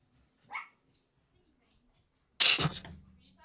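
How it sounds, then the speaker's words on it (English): A small dog gives a brief high yelp, then a louder burst of squeaky barks and whimpers trailing off, heard close with quiet room noise between. "Why does your dog sound like a rat?"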